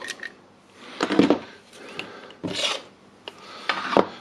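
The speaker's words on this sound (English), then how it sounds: "we'll brush the dust again" A brush scrubs dust off a Makita jigsaw during a teardown and repair, giving close, scratchy rasping strokes in short irregular bursts with small clicks between them.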